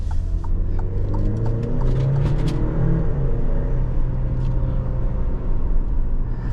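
The turbocharged four-cylinder engine of a 2022 Alfa Romeo Stelvio Ti AWD accelerates steadily under road rumble and cabin hum, its pitch climbing gradually through the revs.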